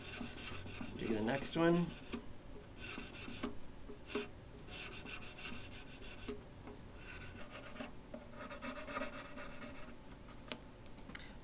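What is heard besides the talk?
sanding guitar frets with 320 grit sanding stick belt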